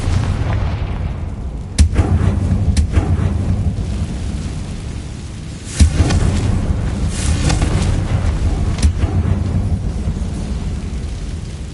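Fire-spell explosions in the video game Hogwarts Legacy go off in loud, booming blasts, several sharp bursts rolling over a dense rumbling background with no one talking.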